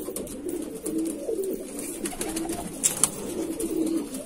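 A Madrasi pigeon at a pigeon sale coos steadily in low, rolling murmurs, close by and moderately loud over a soft background hiss, with a few brief higher chirps near the end.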